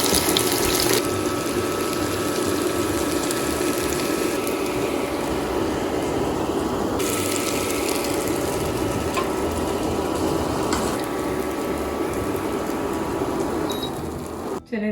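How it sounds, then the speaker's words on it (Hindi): Potato seekh kababs, the last batch, fry in a pan with a steady broad sizzle and crackle that carries on unbroken at close range throughout. "देखें कितने अच्छे से फ्राई हो रहे हैं"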